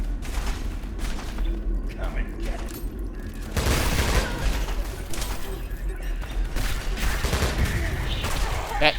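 A grenade blast and sustained gunfire in the Selaco shooter game, a dense, loud barrage of rapid shots and booms that keeps going throughout, with a louder burst partway through.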